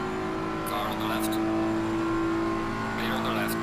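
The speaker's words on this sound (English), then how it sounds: "Car on the left." A GT race car in Assetto Corsa Competizione drawing alongside on the left, its engine a loud, steady drone with shifting pitch over the whole stretch while someone talks briefly.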